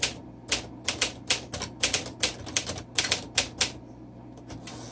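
Keys strike one after another on a 1951 Smith Corona Silent manual typewriter, sharp close clacks in an uneven run of about twenty strokes that thin out toward the end, with no voices.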